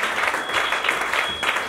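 A church congregation claps and acclaims during a worship service, a steady dense applause with crowd cheering that pulses in waves throughout.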